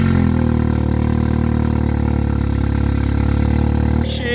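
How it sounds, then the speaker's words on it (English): A car engine on a cold start roars loudly and steadily with a deep, harmonic drone, then drops off abruptly near the end. "Jeez, a little bit on the loud side there on a cold start, mate"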